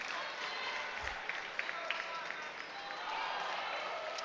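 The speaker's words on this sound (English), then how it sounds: "Crowd likes it." Spectators at a provincial lead and top rope climbing finals clap and murmur in a steady, fairly distant wash of applause, with a voice speaking faintly over it.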